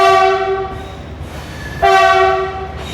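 Ranthambhore Express train at Jaipur Junction sounding its horn in two loud, close blasts, the first held then fading, the second starting sharply after a short gap, over a low rumble of the rail cars.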